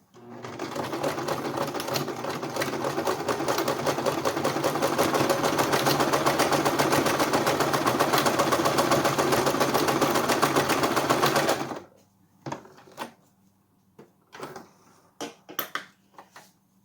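A sewing machine runs steadily for about eleven seconds while stitching a bake even cake strip, close and continuous, then stops, followed by scattered handling clicks and taps.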